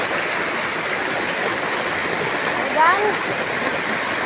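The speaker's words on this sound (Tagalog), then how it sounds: "Hanggang tuhod na po yung tubig." Knee-deep floodwater during Typhoon Crising at seven in the evening, heard as a loud, constant rushing wash of water with a brief swell near the end.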